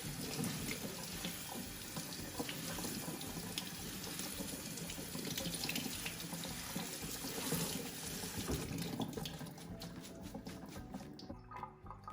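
Kale being rinsed under a running kitchen tap to wash out grit gives a steady, close splashing rush of water that runs continuously and thins toward the end, with no talk.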